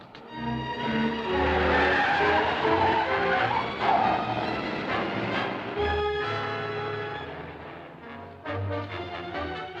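Film sound effect from a 1946 picture: a car's tires squeal in a long skid, then the engine revs and pulls away, loud at first and gradually fading, with a brief roar again near the end and no talk.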